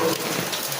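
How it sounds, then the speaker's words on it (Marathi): Heavy rain in a village during the monsoon, a dense, loud continuous hiss of downpour heard briefly and close. "पाऊस लय पडतोय"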